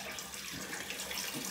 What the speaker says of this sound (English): Let's clean out the sink a little here so that my wife doesn't get upset.